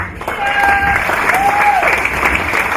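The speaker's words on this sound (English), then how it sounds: "Give me a round of applause for Neville Clark today." An audience at a rodeo awards presentation gives a round of applause, steady close clapping from many hands, with faint feedback-like tones and murmurs beneath.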